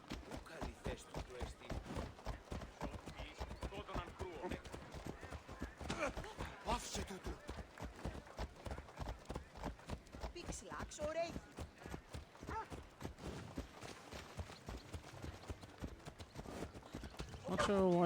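Hoofbeats from a ridden horse in the game Assassin's Creed Odyssey keep a fast, regular clip-clop rhythm throughout, sitting beneath nearly constant speech from a narrator and characters.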